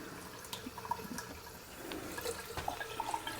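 Water drains through a hole drilled in a glass container, a faint trickle and gurgle with small drips and bubbly plinks, quiet and close.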